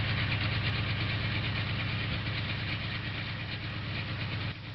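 An M.T.H. electric model train locomotive running steadily, a continuous loud rumbling motor hum with rhythmic track clatter, even throughout and slightly dropping at the end.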